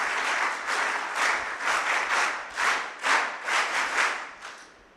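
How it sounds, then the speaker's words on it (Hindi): An audience at a personality-development camp in an ashram gives a round of applause, steady and fairly close, swelling and dipping in uneven waves before tapering off at the end. "उन सभी के लिए एक वीर ताली बजा दीजिए"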